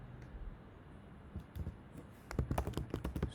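Someone types on a computer keyboard: a few soft, scattered key clicks at first, then a quicker, louder run of close keystrokes toward the end, with no speech.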